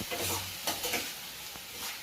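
Squid fries in a hot pan, giving a soft, steady sizzle with a few brief stirring scrapes, heard faint and close with no talking.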